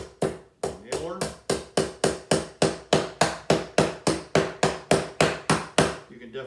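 Nails hammered into the corners of a wooden beehive frame, about twenty sharp, evenly spaced strikes in a fast steady rhythm, loud and close with no talking.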